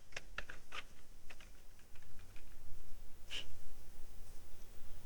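A computer keyboard is typed on to enter a signature name, with a few quiet, scattered key clicks close by over soft background hiss and no talk.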